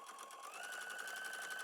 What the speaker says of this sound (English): Now I'm gonna take it over to my sewing machine and do a double row of top stitching.